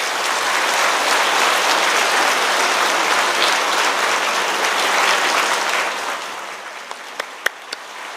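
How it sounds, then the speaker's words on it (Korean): A church congregation at a Sunday worship service applauds warmly, a dense, even wash of clapping that fades out after several seconds, leaving a few sharp isolated claps at the end. "우리 뜨거운 박수로 또 위로하고 격려하십시다."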